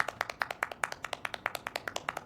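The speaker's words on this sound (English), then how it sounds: "We'd have to clap to wake him up." Hands clap rapidly and steadily to wake a sleeping man, about twenty sharp, close claps in an even rhythm with no talking.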